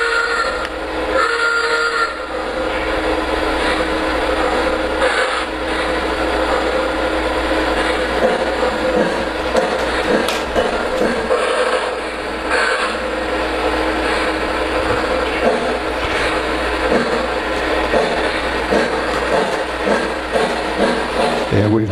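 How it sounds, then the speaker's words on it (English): Model Milwaukee Road locomotive running on elevated track off a crossover bridge, a steady mechanical whir and rattle with faint clicking wheels, continuous and fairly close, a voice briefly audible. "Let me see if I can get the Milwaukee Road locomotive to come off the crossover bridge successfully."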